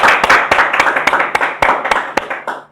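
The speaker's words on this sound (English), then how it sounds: "Let's give them another round of applause." Audience applause in a lecture hall: a spread of hand claps that starts dense and loud, then thins into scattered individual claps.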